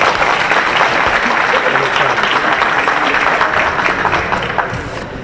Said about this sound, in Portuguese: Uma salva de palmas para o Dr.